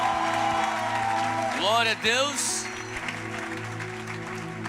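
A church congregation applauds for Jesus. The wash of clapping is steady and moderate, running under a preacher's voice and a person's drawn-out exclamation.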